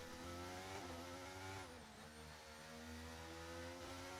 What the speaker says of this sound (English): Can barely hear me over the engine.